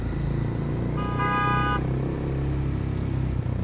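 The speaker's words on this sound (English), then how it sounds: "Somebody just honked." Car horn in traffic giving a single steady honk of under a second, moderately close, over the low continuous rumble of idling and passing engines.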